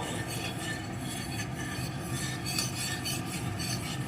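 A tablespoon of oil is spread around a hot tawa on a gas stove, giving a steady, close scraping and rubbing hiss that runs without a break.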